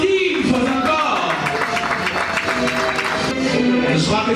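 Continued audience clapping at a Togo certification ceremony, steady and moderately loud, mixed with crowd murmur and voices over it.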